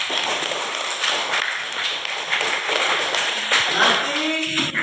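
Children in an elementary school classroom clap together in a dense, fairly steady patter of overlapping claps lasting several seconds, with a voice speaking briefly near the end.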